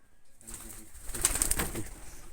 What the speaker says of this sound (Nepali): यहाँ परेवाहरू छ्याप्पै छ फेरि देख्नुभयो